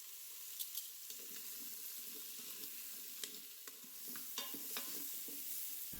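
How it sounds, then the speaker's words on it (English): Large onion chunks sautéing in an Instant Pot for beef stew give a soft, quiet sizzle, punctuated by sharp clicks and scrapes of a spoon stirring against the metal pot. "I'm going to add 1 medium to large onion that I've cut into large chunks, and I'm going to quickly saute that as well"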